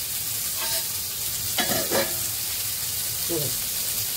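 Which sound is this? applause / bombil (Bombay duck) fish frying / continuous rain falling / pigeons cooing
bombil (Bombay duck) fish frying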